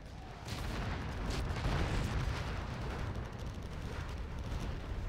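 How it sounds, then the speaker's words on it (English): Carpet bomb explosions in the real-time strategy game Generals Evolution, a dense, continuous roar of overlapping booms and blasts that stays loud and sustained throughout, with no pauses between impacts. "Carpet bomb lands on a couple of those supply stashes"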